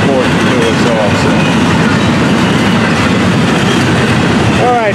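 A freight train collecting empty cars rumbles past close by, loud and continuous, with dense rolling noise and brief wheel squeals at the start and end.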